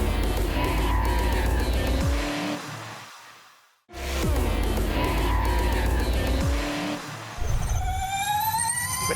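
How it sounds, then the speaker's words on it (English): A race car spinning its rear tyres under power, the engine roaring loud and close with screeching tyre squeal, a sudden brief cut, then more revving and wheelspin with rising shifts toward the end. "You'll see the car not getting out of shape as he starts to burn the tyres off his car."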